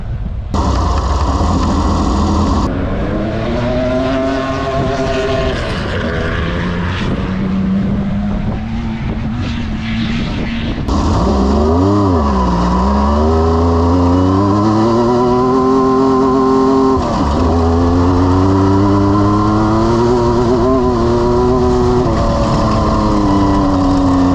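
Class 1 desert off-road race car engine at a VORRA off-road race, loud and continuous, its pitch climbing and dropping through repeated revs and gear shifts with no talk over it.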